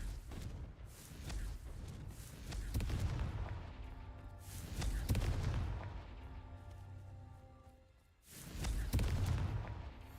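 Fiery blasting spell bursts from Hogwarts Legacy, heavy booming explosions that swell and fade in waves with rumbling low ends, several blasts over a dense battle backdrop.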